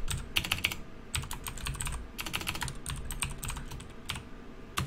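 Typing on a computer keyboard, close and fairly quiet: rapid bursts of key clicks separated by brief pauses, with no voices.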